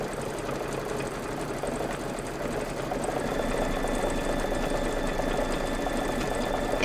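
A Kimberbell embroidery machine stitches out a swish design in one steady, continuous mechanical whir that lasts throughout, slightly louder in the second half, with no talking.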